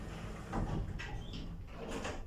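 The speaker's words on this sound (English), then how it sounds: "Doors closing." Modernised Kone M Series lift doors in a Plymouth department store slide shut, a soft mechanical rumble with a couple of brief thuds over steady background hum, no talking.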